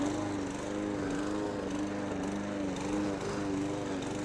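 A walk-behind lawn mower engine with a suspected carburetor diaphragm fault runs continuously and loudly nearby, its note wavering in an uneven, surging rhythm rather than holding a smooth idle.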